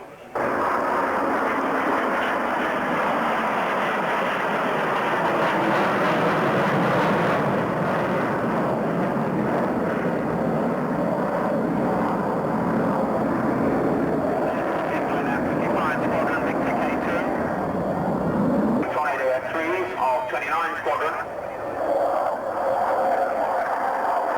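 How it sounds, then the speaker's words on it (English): A NATO Airborne Early Warning aircraft flies past at the 1990 Mildenhall air show, a loud, sustained engine roar that holds steady and then shifts in tone near the end. "This particular machine comes from Squadron 1 of the NATO Airborne Early Warning Force at Geilenkirchen in West Germany."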